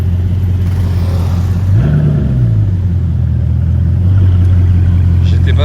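Bugatti Chiron Sport engine with a deep, steady low rumble that swells into a brief rev around the middle and then settles back to a sustained idle-like drone, close and loud, with voices faintly in the background.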